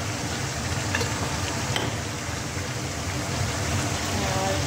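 Cumin powder sizzles in hot oil with a dense, even crackle throughout, with a few faint clinks of a spoon and a voice speaking low underneath.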